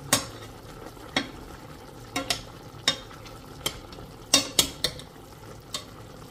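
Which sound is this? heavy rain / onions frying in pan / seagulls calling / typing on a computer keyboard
onions frying in pan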